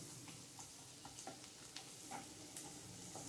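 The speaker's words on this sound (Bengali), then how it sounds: "দিয়ে এটা একটু ভাজবো, লো ফ্লেমে আমি গার্লিক আর বাটারটা" Garlic and butter frying together over a low flame for garlic rice, giving a soft, steady sizzle with scattered light pops and stirring clicks, faint and close with no voices.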